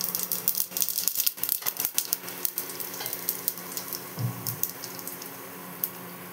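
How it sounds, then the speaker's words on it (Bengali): Black cumin seeds sputtering in hot oil as a tempering for a Bengali kaataa chocchori, a close crackling, popping sizzle with sharp rattling bursts in the first seconds that settle into steadier frying, with no talk. "এর মধ্যে সামান্য কালো জিরে ফোড়ন দিয়ে দেবো।"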